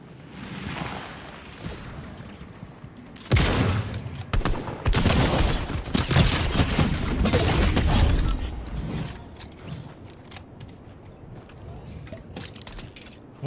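Rapid gunfire bursts in the Fortnite video game, loud and dense for several seconds in the middle, with quieter shots and game noise before and after.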